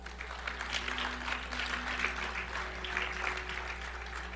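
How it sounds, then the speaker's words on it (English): A church congregation claps for Jesus Christ after a salvation sermon, an even, continuous spatter of hands at moderate volume over a steady low hum. "You can clap for Jesus Christ"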